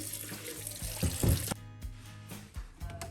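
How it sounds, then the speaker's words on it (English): An air fryer basket rinsed under a kitchen tap, running water splashing and gurgling for about a second and a half, then a few soft knocks and drips as the flow stops. "pour out the dirty water, rinse the basket thoroughly."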